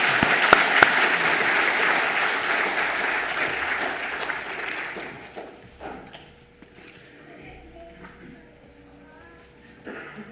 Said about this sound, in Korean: 오늘 유아 세례 받은 우리 6명의 자녀들과 부모님들에게 큰 격려의 박수, 축복의 박수 부탁드립니다